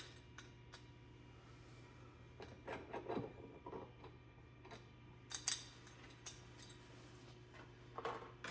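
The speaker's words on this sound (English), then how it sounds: "I am going to thread each one of these screws" Screws threaded by hand into the side mount of a ceiling fan's electrical box, heard as faint scattered scraping and small metallic ticks over a low steady hum.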